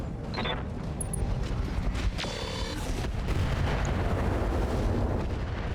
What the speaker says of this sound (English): Long-range missiles are out.